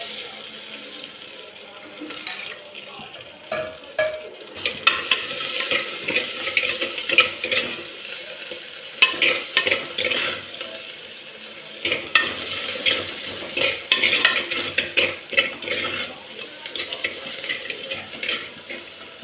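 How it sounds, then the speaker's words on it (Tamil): Chopped onions and curry leaves sauté in a pan for bitter gourd vaththal, with a spoon scraping and stirring in bursts over a soft sizzle that grows busier, with no talk. "அடுத்தது நம்ம கட் பண்ணி வச்சுருக்க வெங்காயமும் கருவேப்பிலையும் போட்டுக்கிடுவோம். அதையும் நல்லா வதக்கிக்கிடலாம்."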